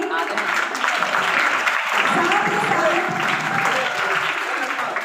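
Loud, sustained applause at a school welcome event, with many hands clapping in a thick continuous wash and a voice audible through it.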